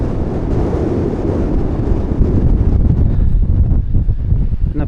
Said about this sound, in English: That wind sure has picked up and it is quite cool